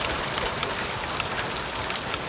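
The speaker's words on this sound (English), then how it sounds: "Yeah, it's really raining now." Heavy rain pours down steadily outdoors, a dense, even hiss of drops drumming on surfaces, moderately loud and continuous with no voices.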